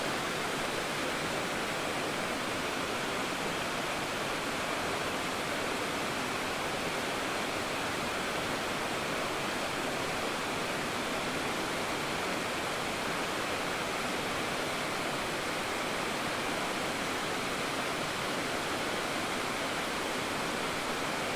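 Carpenter Falls on Bear Creek roars steadily and loudly, a dense, unbroken rush of water with no voices, filling the whole clip.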